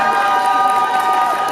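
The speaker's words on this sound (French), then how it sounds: "Ensuite, nous avons le seul unique Jafar, que je vous demande d'applaudir s'il vous plaît." Audience at a cosplay parade show cheering and calling out over a steady, dense crowd roar, loud and sustained throughout.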